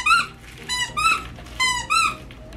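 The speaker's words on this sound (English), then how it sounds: "she says she likes squeaky balls" A squeaky dog toy ball is squeezed four times, each high-pitched, wheezy squeak loud and close, in an otherwise quiet room.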